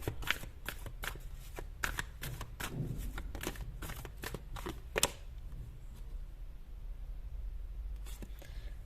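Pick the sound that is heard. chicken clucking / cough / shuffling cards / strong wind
shuffling cards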